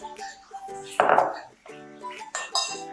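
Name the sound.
mixing fish in a bowl, utensils clinking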